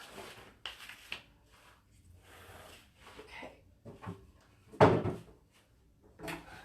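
Wooden furniture drawers painted in matte milk paint are pulled and pushed, giving scattered knocks, slides and thuds, with one sharp louder bump near the end and quiet gaps in between.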